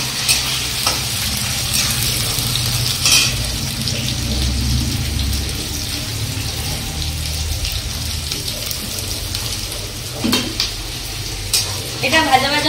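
Finely sliced onions fry in a pan for a prawn and jackfruit dish, giving a steady close sizzle with occasional stirring scrapes and clinks of the pan.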